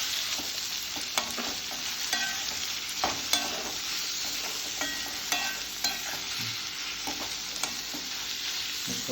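Chopped onion fries in a pan over a low flame, a steady soft sizzle broken by repeated scraping and clicking stir strokes close by, with no talking.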